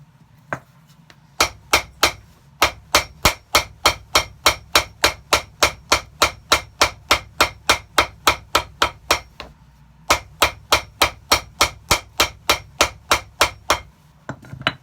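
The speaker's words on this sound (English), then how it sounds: "I like hammer noise too." A hammer strikes rapidly and evenly, dozens of sharp metallic blows in a steady rhythm, pausing briefly once before resuming, close and loud.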